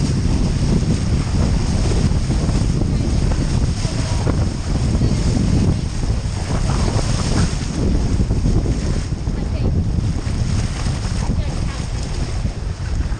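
Strong wind buffets a sailing boat racing in high-teens breeze, a constant loud rushing roar with water noise beneath, unbroken throughout.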